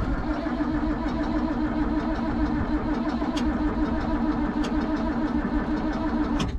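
An old farm tractor that has been sitting is being cranked to start it outdoors, with a dense, continuous, loud mechanical engine drone close by throughout.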